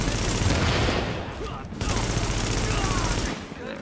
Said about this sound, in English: Even though I'm just kind of shooting all over the place.